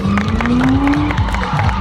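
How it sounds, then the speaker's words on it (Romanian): A crowd at an indoor car drifting show claps and cheers loudly, with rhythmic hand claps under a steady roar and a rising tone running through it. "doamnelor, domnilor și domnilor, vă invit la aplauze!"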